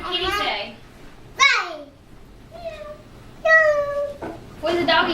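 A young child imitates a cat, giving a few drawn-out, wavering meows in turn with an adult's spoken prompts.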